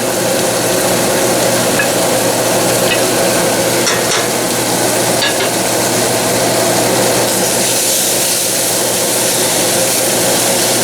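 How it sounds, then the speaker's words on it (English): Vegetables for pork shoulder with navy beans sweat and sizzle in a pot, a dense steady hiss of frying with a few stirring clinks, loud and continuous with no voices. "Every minute, let the vegetables sweat up a little in there"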